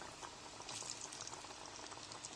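Boneless chicken pieces frying in hot oil for crispy fried chicken, a steady close bubbling sizzle that holds evenly throughout with no talking.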